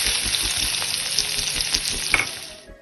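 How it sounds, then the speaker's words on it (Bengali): Potatoes frying in rendered mutton fat, a steady close sizzle with dense crackling spatters and occasional brighter pops, continuous throughout and fading slightly at the end. "এবার আলুগুলো আমি ভেজে নেব।"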